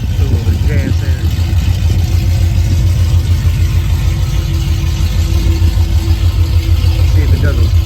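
A custom vehicle's engine runs steadily after a small top-up of gas, a continuous low rumble with a faint rising whine partway through, loud and close throughout.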